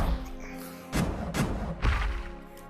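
Explosion slap attack striking an enemy in Project Demigod, three heavy thumping impacts spaced roughly half a second apart, each a short punchy burst over a steady game background.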